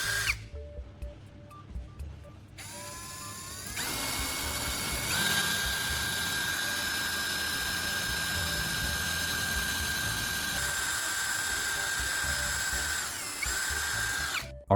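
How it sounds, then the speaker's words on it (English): Power drill boring a second, smaller hole into a piece of wood with a small bit, a steady high whine held for several seconds after a brief start-up, close and loud with no talk. "drill the second hole for the moving part using a smaller bit for a precise,"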